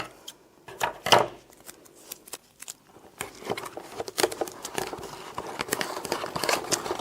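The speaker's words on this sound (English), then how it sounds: "I'm going to use some tape to tape up the bottleneck." Tape being pulled and pressed around the neck of a plastic bottle, heard as close crinkling, tearing and sticky patting sounds in short irregular bursts.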